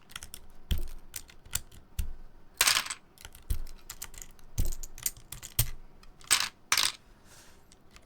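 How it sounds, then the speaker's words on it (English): Keycaps pulled off a mechanical keyboard, a run of close, sharp plastic clicks and snaps coming in uneven bursts, with no one talking. "as I'm pulling off these keycaps"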